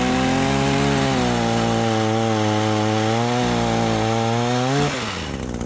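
An Echo PPT 2620 gas pole saw running at full throttle as its chain cuts through a piece of hardwood, a loud, steady two-stroke engine drone with shifting pitch that drops away as the cut finishes.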